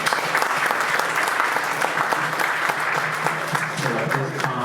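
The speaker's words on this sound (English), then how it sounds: "Let's give them a round of applause." A tech conference audience applauds a panel, dense sustained clapping from many hands filling the room evenly for several seconds, loud and close with no pauses.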